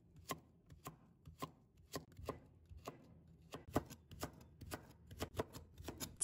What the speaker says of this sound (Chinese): 然后再切成丝